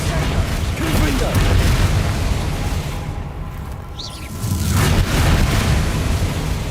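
Confringo fire-spell explosion in Hogwarts Legacy, a rumbling blast that swells and settles over a noisy battle backdrop, followed by another heavy burst, moderately loud with faint bird-like chirps.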